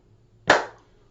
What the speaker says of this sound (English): Now let's add the clap.